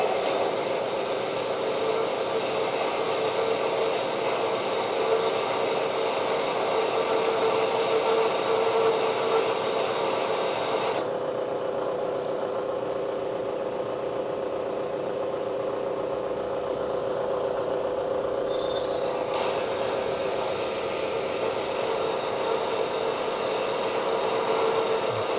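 Slow-speed cutting of thin metal plate on a machine set to 70 RPM, a continuous steady grinding drone with a chattering edge that holds evenly for the whole stretch, no speech.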